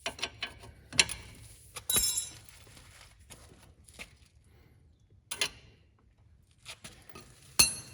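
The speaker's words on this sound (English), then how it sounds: "I'll just take my breaker bar and just cinch them up by hand" A breaker bar tightens the front strut bolts on a Chevrolet Malibu, giving sparse, close metallic ratchet clicks and clanks spaced irregularly, with quiet gaps between them.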